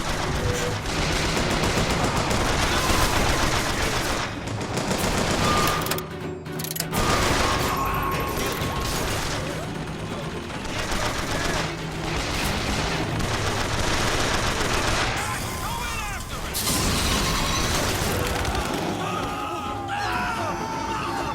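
Dense, continuous gunfire in the Bioshock Infinite video game, with a heavy shotgun-like blast among rapid overlapping shots and game noise that keep up steadily throughout, with no talk.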